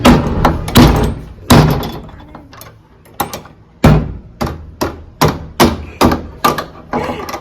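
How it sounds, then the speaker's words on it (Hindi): Someone tries to break a lock on a door, striking it with loud, close blows, irregular at first and then a steady run of evenly spaced hits. "उसका ताला तोड़ते हुए, ये ताला तोड़ने का काम ढंग से करती है ये।"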